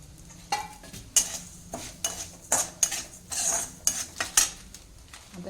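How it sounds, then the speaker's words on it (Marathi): Cumin and fennel seeds dry-roasting together in a pan over low heat, with repeated scraping stirs of a metal spoon and light rattling, a faint sizzle underneath and no talk. "हे सर्व आपण एकत्रच भाजून घेऊया"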